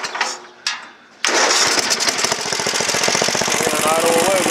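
A Murray lawn mower with a freshly replaced carburetor (30500x92, carb number 640078A) catches after a couple of short pull-start attempts, then runs on at a loud, steady idle with a rapid, even engine chatter.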